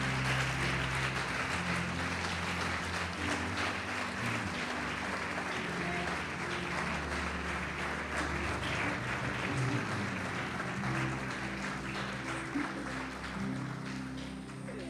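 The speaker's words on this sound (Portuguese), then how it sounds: "Pode aplaudir o Senhor Jesus e glorificar." A church congregation claps steadily and loudly for the whole fifteen seconds, a dense wash of applause over a low sustained tonal backing.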